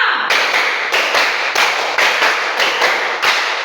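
A classroom group claps a counted rhythm pattern in unison, producing a series of sharp, loud, evenly spaced claps close by, each a crisp burst, with no talking between them.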